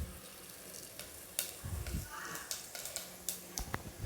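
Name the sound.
cumin frying in oil and ghee in pressure cooker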